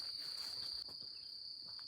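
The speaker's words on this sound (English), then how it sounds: "listen to those crickets" Crickets chirp in a summer woodland at Hocking Hills State Park, a steady, continuous high-pitched trill that holds at an even level throughout, with no voices.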